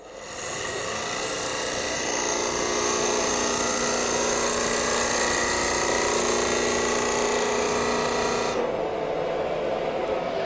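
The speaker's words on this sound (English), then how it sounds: "By cutting from the centre back out, cutting on the lower wing of the gouge, we can form a groove" A woodturning gouge cuts a groove into work spinning on a lathe, a continuous close rasping, whirring scrape held steady for several seconds before stopping abruptly near the end.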